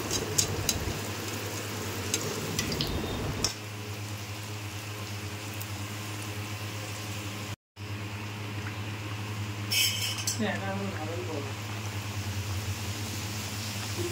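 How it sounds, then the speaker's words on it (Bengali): Luchi frying in hot oil in a wok, a faint continuous sizzle under a steady low hum, with brief clatters near the start and end and no talk. "তো এরপর কড়াই তেল গরম হয়ে যাওয়ার পর দিয়ে দিলাম লুচিটা"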